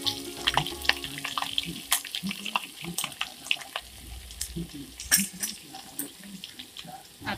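Ginger garlic paste hits oil that has cooled slightly and sizzles in the pan, a steady crackle under clinks and stirring, while someone talks throughout.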